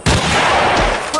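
A single loud, booming sniper rifle shot in the mobile game Hunting Sniper cracks sharply and rolls into a long reverberant tail, close and dominant.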